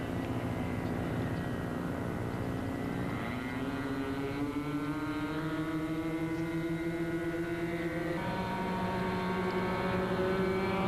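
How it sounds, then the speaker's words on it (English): A small aerobatic airplane holds a steady, droning propeller engine note during a stall maneuver. The pitch slides upward partway through and shifts again near the end, with no voices. "Such as a stall, to see if the aircraft has any tendencies to snap roll."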